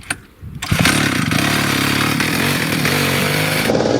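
A homemade draisine's motor, started after the rotor arm is spun, catches with a brief sputter and then settles into a loud, steady, buzzing two-stroke-like run up close.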